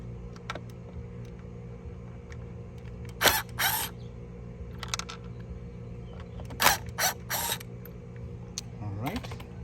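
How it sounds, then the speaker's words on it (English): Screws are worked loose on a Maytronics Dolphin Nautilus CC Plus pool robot, with small clicking, ratcheting taps and a few sharp bursts of handling noise over a quiet indoor background, close by. "Let's get the 4 screws off."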